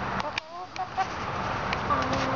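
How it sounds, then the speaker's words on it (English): A chicken clucks in short, close bursts indoors while a person talks to it, its calls mixed in with the speech. "Silly chicken."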